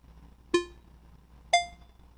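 Two short electronic timer beeps, about a second apart, each a clean tonal ping that fades quickly, heard alone over a faint background hum during a classroom quiz on statistics.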